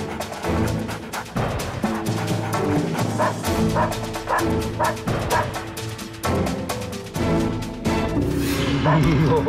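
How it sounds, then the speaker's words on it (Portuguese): A police sniffer dog from a narcotics detection unit barks repeatedly during a drug search in a wooded area, with loud, close barks mixed with people talking over them. "Que é o nosso grupamento de trabalho com cães farejadores."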